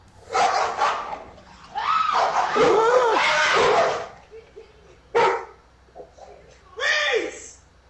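A dog that guarded a couch and leapt off to attack a woman, barking in several sharp, loud bursts separated by short pauses, with some yelping mixed in and a voice audible between the barks.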